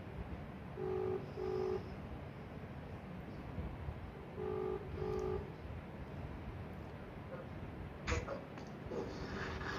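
A mobile phone call is dialed, with two paired bursts of steady electronic tones repeating as ringback over a low background rumble, followed by a brief sharp click and higher tone near the end.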